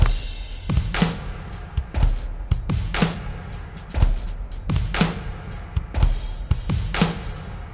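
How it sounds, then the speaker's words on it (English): A drum beat with kick thumps and crisp cymbal and snare hits, sounding slightly doubled and cluttered as if two kits play at once. "So the original drums, if I put them together at the same time, it sounds like this."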